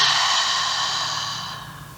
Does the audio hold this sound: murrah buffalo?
no